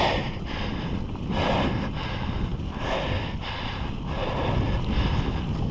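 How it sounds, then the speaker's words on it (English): Gusts of wind buffet the microphone in rumbling, uneven surges, rising and falling every second or so with no voices. "Today can get pretty windy around here"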